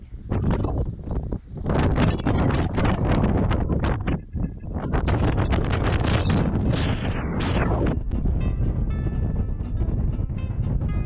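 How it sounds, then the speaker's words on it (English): Heavy wind roars and thumps against the microphone in strong, continuous bursts, nearly drowning out everything else. "I know we all hate wind noise."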